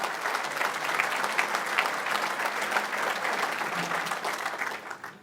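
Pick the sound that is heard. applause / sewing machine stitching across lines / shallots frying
applause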